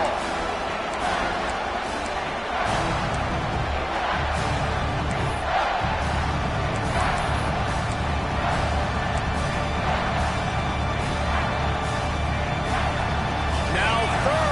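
A stadium crowd roars continuously in a football video game, a loud, rumbling wall of noise with scattered shouts running throughout.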